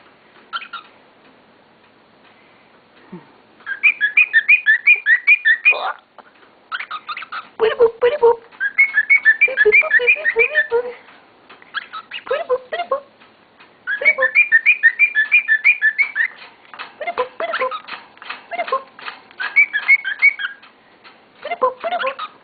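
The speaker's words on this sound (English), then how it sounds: "What a busy bird." A pet bird at a house chirps and whistles busily, with repeated bursts of rapid tweeting phrases alternating with brief pauses, close and fairly loud, alone without talk.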